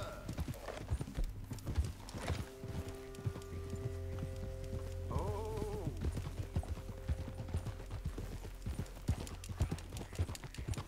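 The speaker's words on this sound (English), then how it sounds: "Come on, horse. Get moving." Horse hooves clip-clop steadily in the Red Dead Redemption 2 video game, a continuous rhythmic trot over a low rumbling ambience with faint tonal music, with a brief whinny-like sound partway through.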